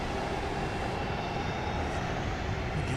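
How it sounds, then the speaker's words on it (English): A JSX Embraer 145 jet arriving at Dallas Love Field gives a broad, steady roar of engine and rushing air, loud and continuous throughout, with no talk. "flight 203 JSX. This will be an Embraer 145 arriving from Las Vegas."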